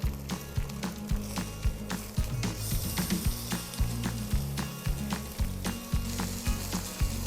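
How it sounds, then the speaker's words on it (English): Chicken cutlets for saltimbocca sizzle steadily in a hot skillet as they are shifted from the outer edge toward the center, with the loud frying hiss punctuated by close scraping and shuffling knocks. "I put the cutlets that were on the outside of the skillet, move them toward the inside."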